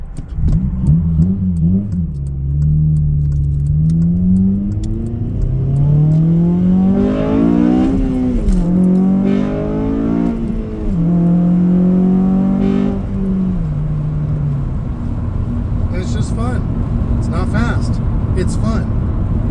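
Four-cylinder engine of a 2007 Honda Civic Si revving up through the gears toward high RPM while driving, loud and continuous with rising and falling pitch sweeps, heard under someone talking.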